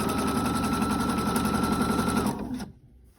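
A sewing machine runs a rapid, steady stitching buzz while sewing double fold bias tape onto nylon mesh, then winds down and stops near the end, close up.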